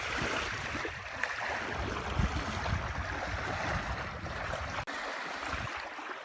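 Waves wash onto a beach at Pictured Rocks, Michigan, a steady rushing surf heard close with uneven swells and a brief dropout near the end.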